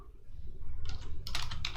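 Typing on a computer keyboard, a short burst of quick clustered keystrokes heard close and fairly quiet over a low background hum.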